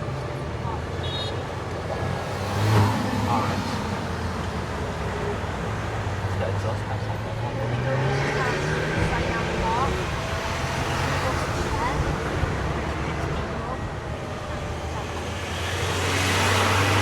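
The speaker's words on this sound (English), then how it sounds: "On the main road now, it's a bit busy with cars flying" Cars pass along a busy main road in Tenerife, rising and fading as they go by over a constant traffic hum, with people talking throughout.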